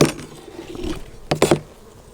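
Honey bees agitated around an opened hive during a spring hive inspection, a low buzzing drone with a few sharper close passes, short and fairly near, with faint handling sounds.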